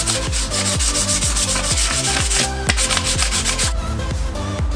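A car wheel being hand-sanded smooth with 320 grit sandpaper after curb rash repair: steady rhythmic rubbing strokes, close and continuous, mixed with background music.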